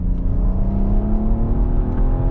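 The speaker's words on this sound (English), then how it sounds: "the V6 has got an unmistakable sort of V6 sound" An Audi RS4's V6 engine hums loudly and steadily, a deep droning note held at a constant pitch, heard up close with no talking.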